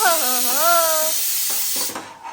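A new pressure cooker in a home kitchen gives a loud whistle with a wavering, pitch-shifting tone. The whistle then gives way to a sustained hiss of escaping steam before fading out.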